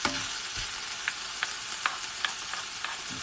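Curry paste for a rendang frying with onions in a pan, a steady broad sizzle with a few sharp stirring clicks and scrapes spaced through it, close and fairly quiet, no voices.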